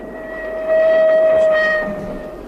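Rolling rumble of a passenger train bound for Târgoviște, heard from on board, steady and loud with a sustained whistle tone swelling in the middle and fading toward the end; no talking.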